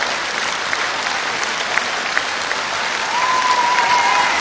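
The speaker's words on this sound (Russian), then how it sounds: "Еще раз аплодисменты, спасибо огромное, поздравляем вас." Audience applause for award winners at a stage ceremony, a dense, steady clapping that stays loud throughout, with a faint sustained tone rising near the end.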